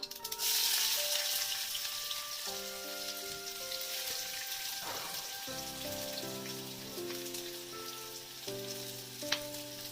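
Onion fries in a pan with a soft, steady sizzle and crackle, fairly quiet, while sustained musical tones play over it throughout.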